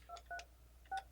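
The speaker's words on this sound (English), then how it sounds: "when we dial the station" Three short keypad tones from an Alcatel-Lucent ALE-400 desk phone dialing, in quick succession, each a bright dual-pitched beep, with brief gaps between them.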